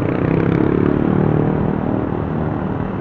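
Motorcycles in city traffic in Bukittinggi, West Sumatra, heard as a steady engine hum and rumble nearby, loud and continuous with no talk.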